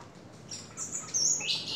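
Several caged birds in a hotel garden in Sanur chirp and whistle in short bright bursts, growing busier toward the end over a soft steady background hiss.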